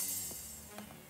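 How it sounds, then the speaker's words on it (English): A bright, hissy synthetic cymbal wash sustains high and steady, with faint tonal blips underneath and a gradual fade. "I have an instrument rack with two cymbal instances."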